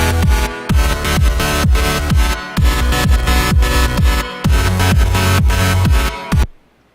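Electronic dance music with a punchy, steady kick beat and a bright synth melody riding on top, cutting off abruptly near the end.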